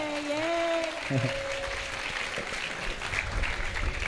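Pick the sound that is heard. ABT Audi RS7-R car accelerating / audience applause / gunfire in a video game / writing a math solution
audience applause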